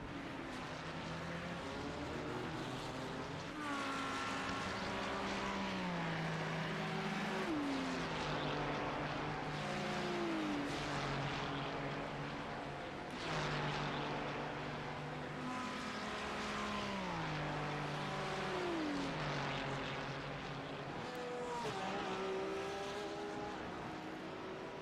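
A Ferrari and a BMW GT3 race car battle closely in a sim racing game, their engines droning steadily at a low level, with repeated rising pitch sweeps and sudden drops as the cars shift gears through the corners.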